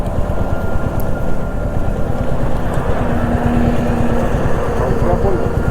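A motorcycle engine idles and runs steadily on a long highway ride, a continuous close rumbling drone with a brief higher whine partway through as the gearbox slips into a false neutral.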